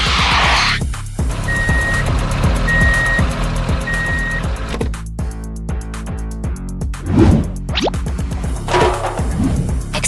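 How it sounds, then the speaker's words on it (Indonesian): A truck with building material pulls in at a snowy mountainside construction site, its steady reversing beeps pulsing loud and close over a rumbling engine, with a few scrapes and clanks near the end. "Sekarang giliran truk biru itu datang membawa material untuk membangun kembali semuanya."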